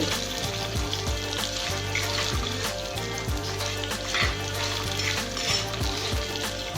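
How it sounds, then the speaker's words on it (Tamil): Spices for a Chettinad chicken gravy roast in a pan, a loud, continuous sizzle with rhythmic stirring scrapes repeating throughout. "சேர்த்து நல்லா வறுத்துக்கலாம்."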